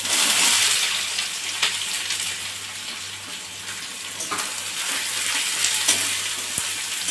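Chopped onion frying in hot oil in a pan, a loud, continuous close hiss and crackle with occasional stirring scrapes.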